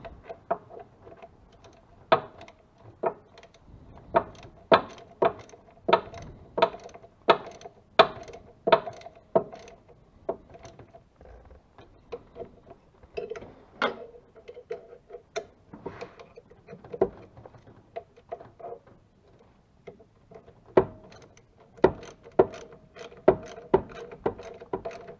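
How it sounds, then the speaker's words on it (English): A wrench tightens alternator bracket bolts on a 1956 Jeep CJ5, making rapid bursts of metallic ratchet clicks up close with short pauses between strokes. "Now I just got to get them tightened up. Put a wrench on to hold it."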